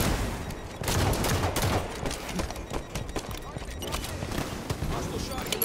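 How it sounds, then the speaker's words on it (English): Enemy gunfire rattles through a Halo multiplayer flag match, dense and continuous, with other battle noise and in-game announcer voices layered over it. "Watch the enemy fire!"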